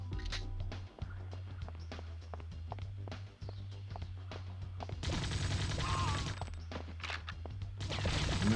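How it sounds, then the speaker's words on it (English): Gunfire in the PS1 game The World is Not Enough, a rapid run of sharp shots over a low steady game drone, with a heavier burst of firing midway and again at the end. "And just listen to that gun go."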